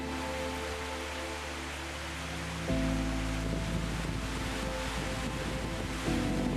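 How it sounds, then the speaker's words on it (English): A waterfall where a creek pours over polished rock steps in the Pilbara: water rushing continuously with a broad, steady roar, close and loud, with a low droning hum underneath and no voices. "We turn around at a waterfall where the creek rushes down over polished rock steps"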